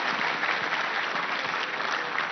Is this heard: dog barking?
no